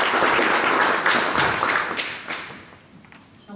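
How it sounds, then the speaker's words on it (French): An audience at a political party's twentieth-anniversary gathering applauds Georges Martel: a dense wash of clapping that holds steady, then thins and fades toward the end. "Et si vous voulez bien l'applaudir"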